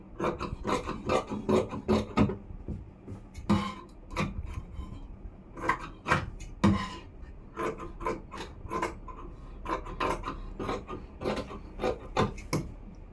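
Scissors snip through blouse sleeve fabric in a long run of crisp, close cuts, some in quick bursts and others spaced apart by short pauses.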